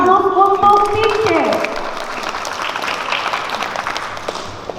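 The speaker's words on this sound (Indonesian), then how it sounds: "Kita berikan aplaus untuk tim C" An audience applauds team C at the final of a Qur'an comprehension quiz competition in 2021. A brief spoken announcement is followed by a steady wash of clapping from the crowd.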